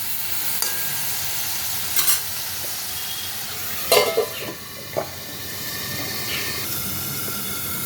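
A bottle gourd and shrimp curry is stirred in a pan over gas. A constant sizzling hiss runs throughout, with a few sharp scraping clinks of the spoon against the pan near the middle.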